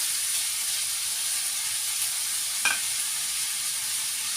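Onions sauté in a pan for a Kerala-style dish, giving a soft, constant sizzling hiss up close, broken once by a brief scrape of a spoon against the pan.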